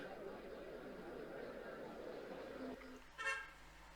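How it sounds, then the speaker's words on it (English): At an outdoor cricket match, a car horn gives a single short beep near the end, fairly faint over a quiet background of distant chatter. "Car beeps as it goes back outside."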